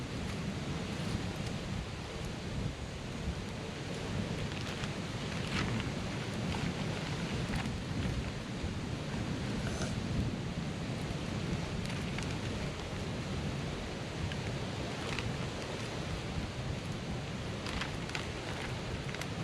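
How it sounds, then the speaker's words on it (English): Strong wind gusting outdoors at a basecamp, a broad roaring rush that stays loud and steady throughout with occasional brief crackles, no voices present. "It's pretty windy out here"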